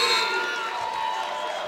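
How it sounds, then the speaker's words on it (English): Home crowd at Tarleton State cheering during a women's basketball game against Midwestern State, a steady roar of arena noise, moderately loud and continuous, beneath a commentator's voice. "you see the Texans crowd firing up this team"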